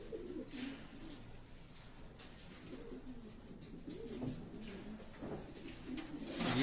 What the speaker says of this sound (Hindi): पहले बताएं कबूतर सामने रखते ना, पहले सामने दिखाइएगा अहमद भाई